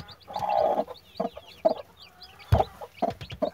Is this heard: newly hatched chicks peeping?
yes